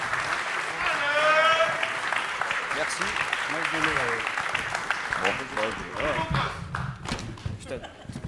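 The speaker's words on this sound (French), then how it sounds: "On peut les applaudir" Conference audience applauding speakers at a storm chasers' event, a steady crowd clapping with voices speaking and calling over it, tapering toward the end.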